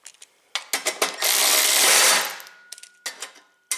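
Quick ratchet clicks tighten short bolts on an Ariens snow blower, coming in sharp bursts at close range, with a longer continuous ratcheting run in the middle, then more short clicking bursts.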